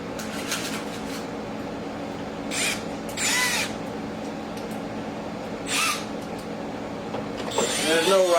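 Power drill driving Torx screws while a front splitter is fitted to a Corvette C8 Z06, several short whirring bursts separated by pauses over a steady background hum.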